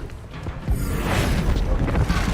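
Descendo spell cast in Hogwarts Legacy: after a quieter rumbling start, a heavy booming impact hits and rolls on as a loud, sustained crash, with no voices.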